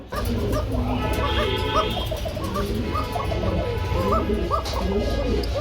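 Pigeons coo repeatedly in a busy loft of fancy breeds, including Arabian and pink-tailed birds, with several calling over one another against a steady low background hum.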